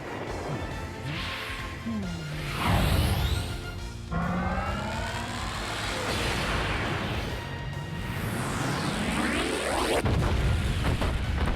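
Fairy bomb explosions in the Wii U game Hyrule Warriors: loud sweeping whooshes and rumbling booms roll one after another across a busy battlefield, with no pause in the noise.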